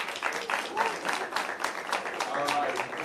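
An audience at a community meeting gives board candidates a round of applause, a steady and fairly quiet patter of many hands that continues throughout.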